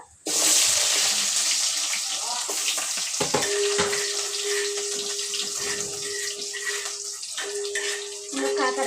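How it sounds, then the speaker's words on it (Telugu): Onion hits very hot oil in a pan for masala bajji, starting a loud sizzle that settles into steady, close frying, with a faint tone running through part of it. "నూనె అయితే బాగా వేడైపోయింది ఇంకా ఉల్లిగడ్డ కూడా వేసేస్తా"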